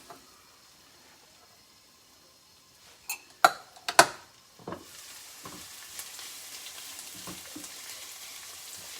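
Onions fry in a pan for a Kerala-style fish curry, with a few sharp clatters of utensil on pan followed by a soft, steady sizzle that carries through to the end.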